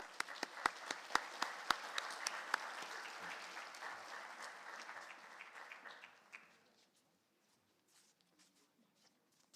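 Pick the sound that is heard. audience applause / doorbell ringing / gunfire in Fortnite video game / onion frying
audience applause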